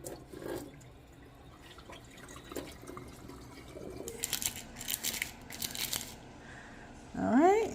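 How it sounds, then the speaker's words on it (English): Running water from a kitchen tap rinses food while spaghetti is being made, coming as a few short splashing bursts in the middle over a quiet room background, with no talk. "sometimes you can just run the water right on off"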